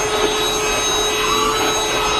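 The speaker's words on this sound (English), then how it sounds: "So I actually keep a Bissell hand vacuum in here." Bissell cordless hand vacuum cleaning a 2022 Kia Telluride interior, a loud, steady motor whine with airflow hiss, running continuously without talk.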